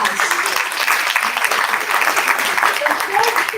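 An audience at a business conference gives a round of applause, loud dense clapping throughout with voices mixed in underneath.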